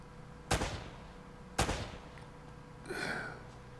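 Shotgun fire in the video game Uncharted: Drake's Fortune: two sharp, booming blasts about a second apart, each trailing off, followed by a softer rattling burst.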